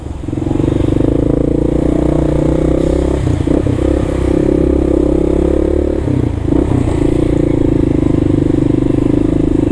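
A four-stroke delivery scooter without a plate rides close by on a New York City street, its loud, steady engine drone running throughout with slight rattles.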